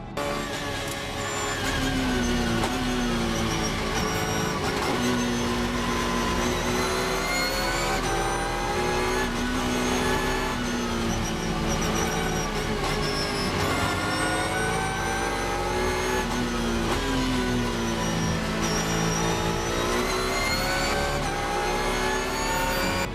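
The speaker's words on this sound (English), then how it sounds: "Maxime Martin on his last stint in the BMW Z4" A BMW Z4 GT race car engine roars continuously at the Nürburgring, holding a loud, steady mid-pitched note with rising and falling revs through gear changes, close and dominant throughout with no talking.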